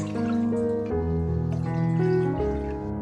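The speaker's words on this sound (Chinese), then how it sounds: "鍋裡加入清水" Clear water is poured into a cooking pot, a close, continuous filling sound whose pitch shifts as the pot fills over a few seconds.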